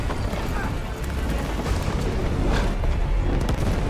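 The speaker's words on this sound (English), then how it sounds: "That's a big explosion!" Big explosion in the video game It Takes Two, a dense, continuous roaring blast with crackling debris that stays loud across the whole stretch.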